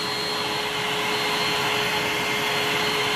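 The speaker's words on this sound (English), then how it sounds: "whenever you use the blow dryer" A blow dryer drying paint roars steadily up close, a constant whooshing hiss with a faint high whine and no voices.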